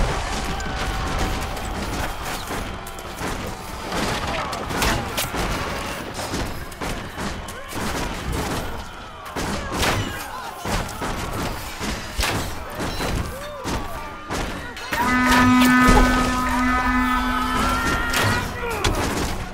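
Castle gate under assault in Chivalry 2, a dense barrage of heavy thuds and impacts amid battle clamor, with a sustained horn-like tone joining near the end.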